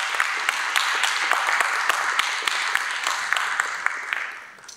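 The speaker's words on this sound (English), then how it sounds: "Please give them a huge round of applause." An audience at a theater performance event gives a round of applause, dense continuous clapping at moderate loudness with distinct sharp claps standing out, fading slightly at the end.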